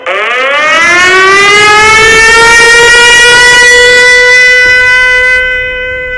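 A loud air raid siren wails during an alert in Ukraine. It rises quickly in pitch, then holds a steady, piercing tone for several seconds before fading slightly at the end.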